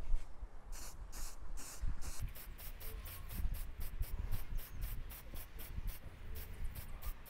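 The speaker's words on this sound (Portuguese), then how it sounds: "Vou pegar a tinta spray, vamos pintar toda ela." A spray paint can coats a leftover plumbing pipe in gold, giving short hissing bursts that speed into a quick, regular run of sprays over a faint background hum.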